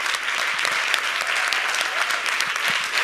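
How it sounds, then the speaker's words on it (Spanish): Audience at a science event for all ages applauds in a sustained burst of dense clapping that keeps up steadily throughout, with a few faint voices mixed in. "que yo creo que se merece un aplausazo"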